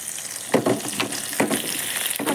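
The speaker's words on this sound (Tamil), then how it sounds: "நல்லா வெங்காயம் வணங்கி வரட்டும்" Chopped onions sauté in a pan with a steady close-up sizzle, broken by a few louder bursts as they are stirred, with no voices.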